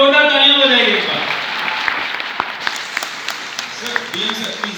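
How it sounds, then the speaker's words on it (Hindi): Students at an Allen Kota IIT/NEET coaching session applaud a visiting director; a voice speaks briefly at first, then scattered hand claps follow at a moderate level. "सर के लिए जोरदार तालियां बजाइए एक बार।"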